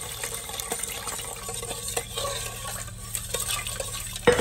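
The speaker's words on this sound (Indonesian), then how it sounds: "baru dituangkan airnya semua" Water is poured over Nutrijel jelly powder in a pot on an unlit stove and stirred, giving a soft, steady swishing and light scraping throughout, with faint clinks of utensil against the pan.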